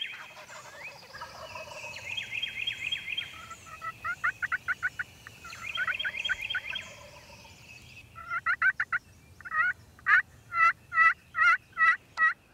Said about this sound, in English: some toms started gobbling from the limb.